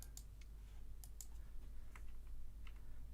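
Computer keyboard keys, including the arrow keys, pressed during a programming lecture: scattered light clicks at an uneven pace over a steady low room hum, with no talking.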